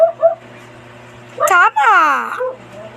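Several dogs barking and yelping outside, a burst of sharp barks followed by a long drawn-out howling whine, with faint thinner yips before it.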